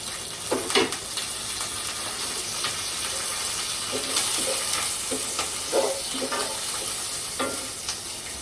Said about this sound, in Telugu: ఇప్పుడు తాలింపు దినుసులు కరివేపాకు వేసానండి.